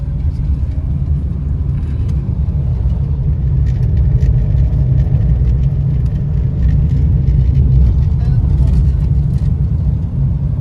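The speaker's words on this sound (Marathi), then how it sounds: "एकदम हळूहळू जातोय कारण गाडी पूर्ण मागून बसली आहे" A car with a blown tyre and its rear sagging creeps slowly along a potholed road, a steady deep rumble and whir filling the cabin, with muffled voices mixed in.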